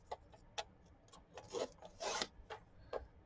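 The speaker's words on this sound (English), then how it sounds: "let's use the trimmer" A paper trimmer blade slides across an envelope in faint, scratchy rasps and soft ticks, ending in a longer rubbing cut, all quiet and close.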